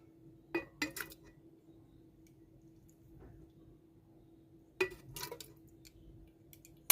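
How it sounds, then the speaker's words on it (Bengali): Mango oil pickle spooned into a glass jar, two pairs of sharp clinks of a utensil against glass separated by a quiet pause, close and crisp with faint soft squishes between. "এখন আমি বয়ামের মধ্যে ভরে দিচ্ছি"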